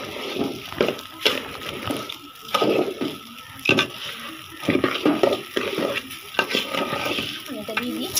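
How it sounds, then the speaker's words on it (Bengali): Water goes into a pan of fried ingredients for biryani, bursts of hissing sizzle and sloshing stirs come in uneven pulses close by, with a little background noise between them. "ভাজা হয়ে গেছে, এখানে আমি পানি দিয়ে দিব।"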